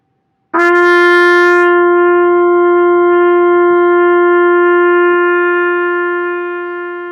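A single trumpet note, a long held G, sustained steadily for over six seconds after a clean attack, bright and loud, slowly fading slightly near the end.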